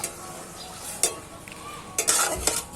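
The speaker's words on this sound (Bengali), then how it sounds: "এবার এই তুমুচের খোসাগুলোকে এই শিরায় দিয়ে দিচ্ছি" Pieces of watermelon rind tipped into sugar syrup in a pan for a sweet preserve, making a few brief clattering splashes over a low, steady simmer.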